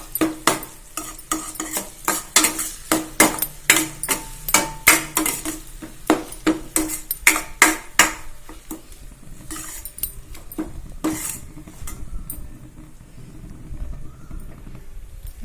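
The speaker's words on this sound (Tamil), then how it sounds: "இப்போ மாங்காய் திருகி வச்சதை சேர்த்துட்டு நல்லா வதக்கிக்கோங்க." Grated raw mango is stirred and sautéed in a pan, a spatula scraping in quick rhythmic strokes, loud and close at first, then easing into softer, sparser scrapes with a faint sizzle underneath.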